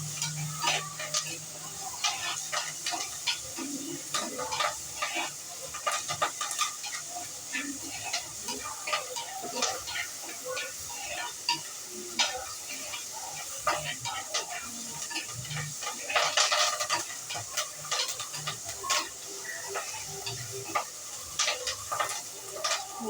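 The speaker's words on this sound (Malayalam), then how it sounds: "ഉള്ളിയൊക്കെ നല്ലോണം മൂത്ത് വരുന്നുണ്ട്" Sliced onions with a pinch of salt frying in a pan for a Telangana-style dish, a steady close sizzle with spatula scrapes and stirs throughout, and occasional quiet talk.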